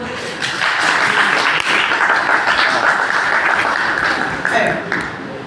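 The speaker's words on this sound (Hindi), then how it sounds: "सर अरे ताली बजाओ सब लोग।" A group of people applaud together in steady, dense clapping that carries on for several seconds at close range, with murmured talk mixed in.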